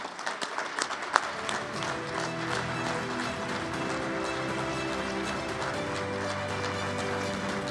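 An audience at a St. Louis Sports Hall of Fame induction ceremony applauds in a steady, dense wash of clapping that holds evenly throughout, fairly full and close.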